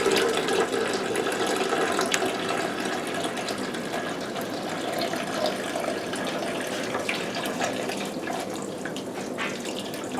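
White vinegar pours into the pot of a coffee maker with a steady, continuous splashing rush. The sound stays even and fairly close throughout, with no talking.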